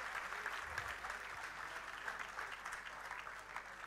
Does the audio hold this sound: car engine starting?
no